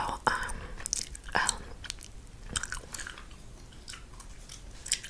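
Close, quiet gum chewing with soft wet clicks and crunchy bites spread irregularly through the clip, set against a hushed background in an ASMR whisper-rambling setting.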